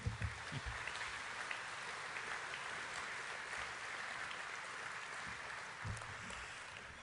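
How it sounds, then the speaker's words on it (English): Quiet but steady applause fills a room at a hall of fame induction ceremony honouring Roy, many hands clapping in a continuous, even wash heard from a distance. "A nice round hand of applause for Roy."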